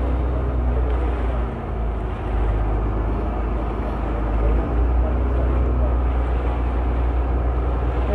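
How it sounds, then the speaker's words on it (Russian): A boat motor rumbles steadily on a Venice canal, a loud continuous low drone with wind buffeting the microphone throughout. "Наверное, есть шум мотора."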